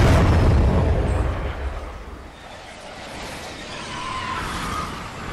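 Rocket explosion in the Fortnite video game during rocket riding, a loud rumbling blast that swells at the start, dips, then builds again into a sustained roar, with no talk.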